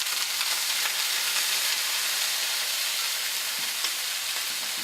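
Steamed edamame and corn sautéing in a little oil, a dense, bright, even sizzle that holds steady throughout at close range, with no voices.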